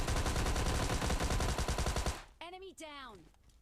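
Rapid automatic gunfire from a Thompson in PUBG Mobile Lite, a loud fast burst of shots lasting about two seconds, followed by a voice speaking.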